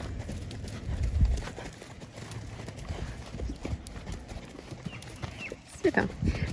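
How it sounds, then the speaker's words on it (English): A horse cantering in an arena, its hoofbeats a steady rhythmic drumming at moderate distance, with faint background noise and a brief higher sound near the end. "All right, Ben, do you want to show me your canter"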